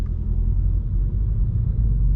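Volkswagen Scirocco engine rumbling steadily while driving, a deep continuous low drone heard from inside the car, loud and even with no talk.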